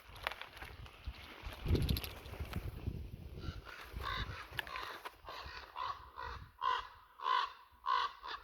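Big, noisy crows cawing outdoors in western Ukrainian countryside: a run of loud, harsh caws repeating in a steady rhythm, nearby, after some quieter rustling at the start, with no talk.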